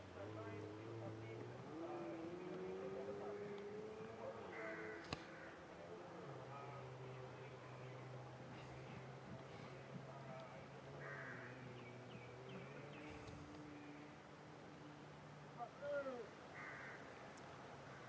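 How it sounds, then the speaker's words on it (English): Birds call intermittently in the background at a motor racing track while a person talks over steady outdoor noise, with a faint engine hum underneath. "I can even hear birds singing again."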